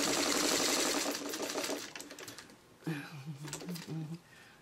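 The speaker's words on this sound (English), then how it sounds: "now I'm going to put my stay stitching because I know I have biased edges" A sewing machine runs stay stitching along the bias edges of quilt-block fabric, a fast steady rattle that slows and stops, then resumes in short bursts, close and fairly loud with no talking.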